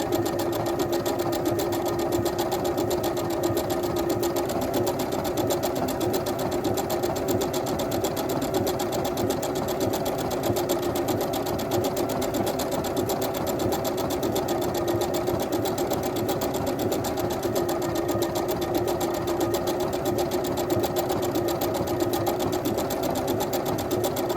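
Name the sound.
sewing machine stitching a quilt block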